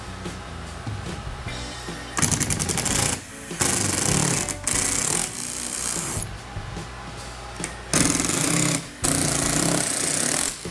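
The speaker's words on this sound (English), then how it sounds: "So Mikey didn't realize he had the impact driver instead of just the driver" An impact driver hammers screws or holes into the plastic factory front splitter of a 2018–2023 Mustang GT or EcoBoost, loud rattling bursts of a few seconds each, separated by short pauses, with no talking.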